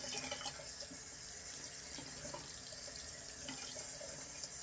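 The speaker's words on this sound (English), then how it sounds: "Let me wash out my brush." Tap water runs steadily into a sink while a shaving brush is rinsed out under it, a continuous close splashing hiss with small shifts in flow and no talking.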